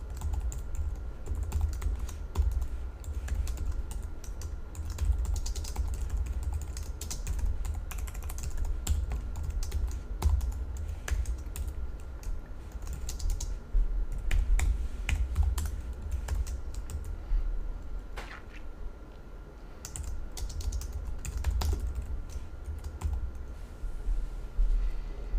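Steady typing on a computer keyboard while entering code properties, a continuous run of quiet, close key clicks with occasional louder taps and no voices.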